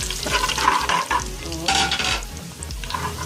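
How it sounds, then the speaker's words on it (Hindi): Whole spices are stirred as they fry in hot oil in a pan for peas pulao, a loud, bubbling sizzle right up close, with scraping stirs rising and falling throughout. "मैं इसमें ये सारे खड़े मसाले ऐड कर दूँगी। हम लोग थोड़ी देर ही ऐसे चलाएंगे"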